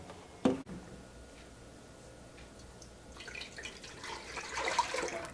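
Milk pours into a quart jar, a soft liquid trickle that swells into a fuller splashing stream near the end, quiet and close, with a brief knock at the start and no voices.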